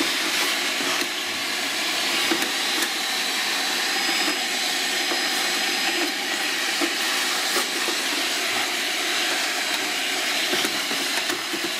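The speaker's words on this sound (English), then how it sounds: "Everybody should have a good wet vac in their truck like this." A wet vac runs steadily while cleaning a Ruud HVAC condensing unit, a loud, constant whooshing roar with airy hiss and small surges as the nozzle moves, and no voices.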